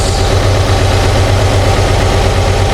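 An Infiniti G37 sedan engine idles while warming up, a loud, steady low rumble with constant vibration and no variation in pace.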